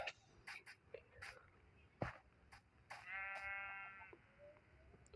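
A sheep in the Minecraft video game bleats once, a short nasal cry heard over faint background game noise and a few soft clicks.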